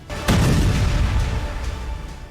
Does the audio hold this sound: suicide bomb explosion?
yes